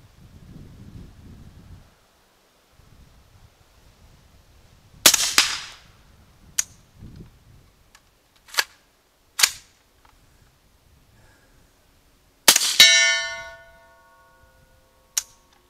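Suppressed 300 Blackout rifle firing Hornady 208-grain A-Max subsonic rounds, several sharp isolated shots spaced irregularly, some followed by brief metallic ringing, with quiet handling noise between.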